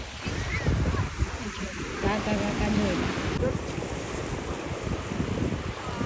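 Steady wind buffets the microphone over the rolling wash of sea waves on a beach at Daman, with no clear voices.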